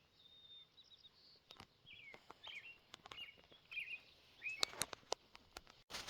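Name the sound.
birds singing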